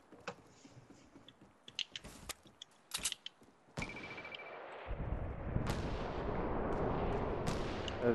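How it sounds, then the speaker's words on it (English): Gunfire in the video game Fortnite during a 50 vs 50 match: a scatter of sharp, distant-sounding shots and bursts early on, then a denser, louder wash of rumbling noise with further cracks, no talking. "Oh, shots, I hear shots."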